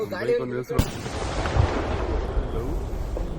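A brief voice, then a sharp blast of firecrackers at a village fire-walking festival, and a dense crackling roar of bursts and pops that carries on loudly.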